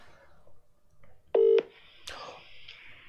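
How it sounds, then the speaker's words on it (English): WhatsApp call ringing on a phone, a short loud electronic tone burst followed by fainter chimes, set against quiet room noise. "let's try a WhatsApp call because that worked last time."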